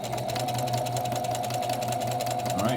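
A sewing machine stitches pieced quilt fabric for a pinwheel quilt block, giving off a steady, close, continuous mechanical whir with a rapid, even needle rhythm and no pauses.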